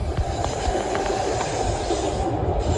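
A refurbished Class 350 eight-coach electric multiple unit passes close by, a loud steady rumble of wheels on rail with rhythmic clicks over the joints and faint squeal.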